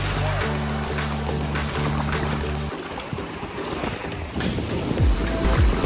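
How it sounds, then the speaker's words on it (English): Waves wash and surge steadily on a beach at Cayo Santa Maria, Cuba, with broad, rushing noise and some wind buffeting, and a low mechanical hum fades out partway through. "Here is the beach."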